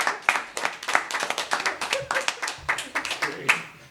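A studio audience at a Christmas special comedy show claps in a quick, steady patter of close, sharp hand claps that fills the few seconds.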